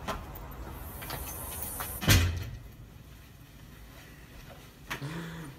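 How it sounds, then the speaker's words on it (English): A single door thumps and rattles open midway through, fairly loud and close, followed by quieter rustling and a softer knock near the end, with a low background hum throughout. "let me just get the door for you"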